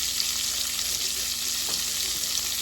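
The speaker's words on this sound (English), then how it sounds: "Got our onions in the skillet." Onions fry in a skillet with a loud, dense, continuous sizzle that holds steady throughout, with no voices.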